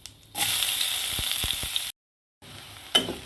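Chopped onions hitting hot oil in a wok with cumin and asafoetida, a sudden loud hiss that stays steady with a few spatula taps, then a brief silence and a softer sizzle resuming with a knock.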